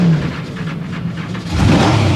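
The Bigfoot monster truck's 9.7-litre blown big-block Ford engine revs loudly up close, a deep throbbing roar that swells harder toward the end.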